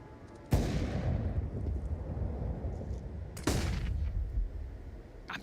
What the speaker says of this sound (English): Observe the grenades flying in his direction.